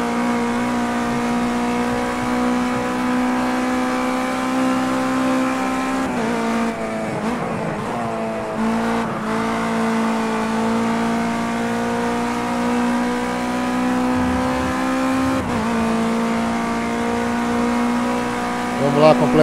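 Race car engine in the racing game Project Cars 2, a loud, steady droning whine with shifting revs and brief gear changes, tires scrubbing now and then, while someone talks over it.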